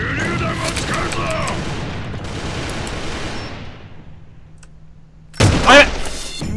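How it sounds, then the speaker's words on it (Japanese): A grenade goes off in the online shooter AVA (Alliance of Valiant Arms). After a stretch of busy, fading in-game noise and a brief lull, a sudden loud, close blast booms and rumbles for about half a second. "手榴弾を使うぞ"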